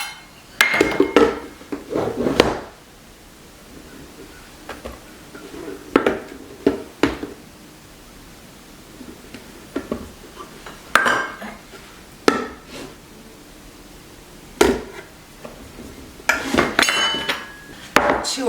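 All-purpose flour and dry ingredients for ginger cookies are mixed in a bowl, giving sharp, irregular clinks and knocks of a utensil against the bowl, separated by quiet pauses, with no talking.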